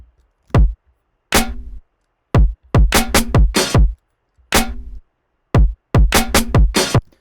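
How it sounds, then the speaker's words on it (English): A hip-hop drum pattern plays alone, with punchy kicks and sharp snare or clap hits in a syncopated groove, repeating across several bars with short gaps between phrases. "the original drum pattern kind of sounds like this."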